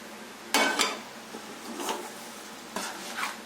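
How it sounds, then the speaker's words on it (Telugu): Oil tempering with garlic, curry leaves and dried red chillies stirred into homemade lemon pickle, giving two sharp utensil scrapes and clinks followed by softer stirring and another clatter, close and moderately loud. "ఇప్పుడు మనము వేడి చేసి పెట్టుకున్న ముందుగా ఆయిల్, పోపు దినుసులు, వెల్లుల్లి, కరివేపాకు, ఎండుమిరపకాయలు అన్నీ ఇందులో వేసుకొని కలుపుకుందాము."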